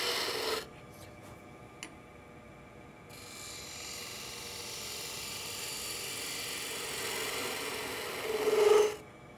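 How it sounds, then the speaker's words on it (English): Spindle detail gouge paring waste wood from a turned bottle-shaped bottle opener on a lathe, a steady close rasping scrape that runs for several seconds and swells at the end, after a few brief knocks at the start. "I'll use the spindle detail gouge to pare down some of this waste material"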